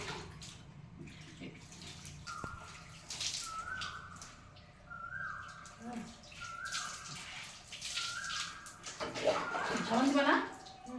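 Warm water poured and splashed over someone being bathed at home, with intermittent splashing and trickling throughout, growing louder near the end, under women's conversation.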